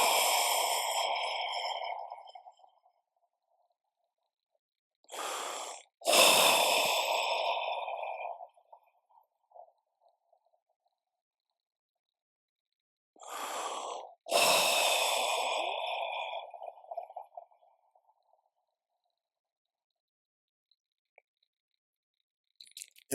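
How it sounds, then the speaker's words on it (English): During a meditation session at a retreat in Ladakh, someone takes slow deep breaths. Three long, close breaths with heavy sighing exhales are separated by near-silent pauses, and no one speaks. "Take 3 deep breaths"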